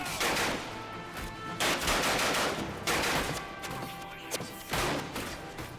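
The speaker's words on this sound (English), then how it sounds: "Machine guns!" Machine guns fire in the war video game Ad Infinitum, loud bursts of rapid gunfire in several waves with brief lulls between them, dense and close.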